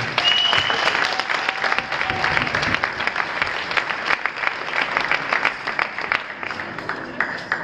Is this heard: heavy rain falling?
no